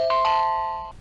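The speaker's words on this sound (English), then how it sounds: "you can also make the camera just ring" A single electronic doorbell chime from a battery-powered outdoor security camera, two bright tones in quick succession ringing clearly and then fading out, with no voices.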